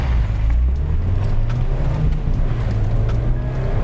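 A car launches hard on a timed run during a stability control test, its engine roaring loudly and continuously with a low droning pitch and steady wind noise, no talking.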